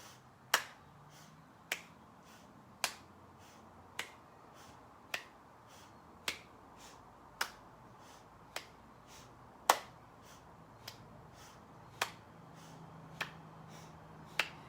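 Single sharp claps repeat about once per second during a lymphatic breathing exercise, each crisp and close against a quiet room, with faint breathing between them.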